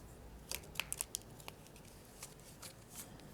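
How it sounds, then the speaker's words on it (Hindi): Tarot cards being shuffled, a few crisp riffling and snapping bursts in the first half, then faint soft handling in a quiet room. "तो सबसे पहले हम कार्ड्स को शफल कर लेते हैं"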